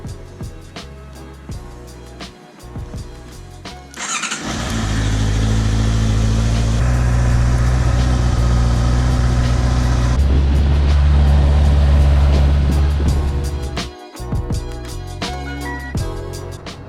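A motorcycle on a test ride with a Quad-Lock fork stem mount: engine noise under music, rising to a loud sustained roar as it accelerates for about ten seconds, then dropping back.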